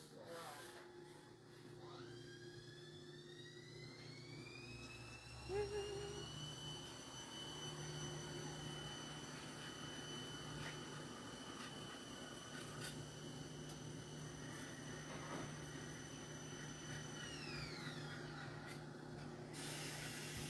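A compressed 3M Scotch-Brite wheel spins against metal dies, giving a steady abrasive rubbing hiss under a rising and falling motor whine that holds for most of the clip.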